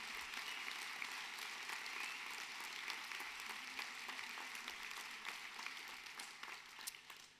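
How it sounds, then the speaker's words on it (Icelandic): Applause from the audience at a party national congress closing session, a sustained, fairly distant crowd clapping with scattered sharp individual claps, tapering slightly at the end. "Gefum honum gott klapp."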